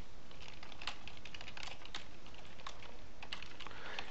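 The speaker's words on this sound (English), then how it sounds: "you can actually type something in" Typing on a computer keyboard, with quick irregular key clicks close by, steady throughout over a faint background hiss and no voices.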